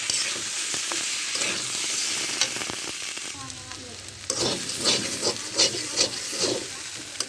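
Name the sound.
sautéing potatoes and lentil dumplings (bori) with spices in a pan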